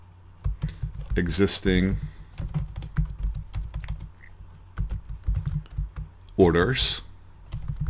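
Keys on a computer keyboard are typed in a steady run of quick, close clicks, with a person talking over parts of the typing.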